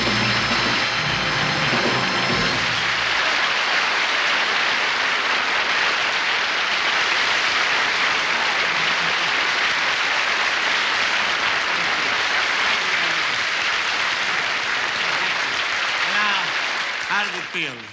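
A studio audience at a 1965 television variety special applauds loudly and continuously for the whole stretch. A sung note fades out at the very start, and the clapping thins slightly at the end.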